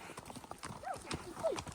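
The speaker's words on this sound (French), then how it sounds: "Mais mon cheval, il trotte." A pony trots outdoors, hooves clip-clopping in a steady, close rhythm while a rider talks over it and a brief whinny-like sound rises near the end.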